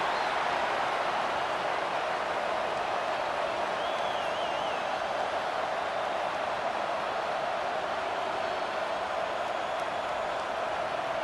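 Stadium crowd in College Football 25 during a Tennessee versus Oklahoma game, a dense, continuous roar of cheering that holds steady and loud throughout with no breaks.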